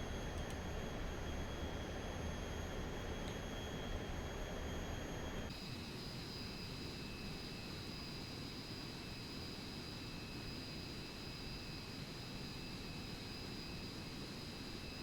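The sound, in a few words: Boeing 737 jet engines in flight, Aerofly FS 4 video game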